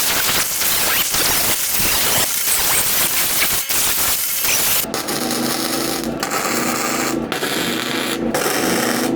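Tack welds from an ArcCaptain MIG 250 welder joining two steel pieces. Rough scraping noise comes first, then a run of short buzzing arc bursts, each lasting about a second, with brief pauses between them.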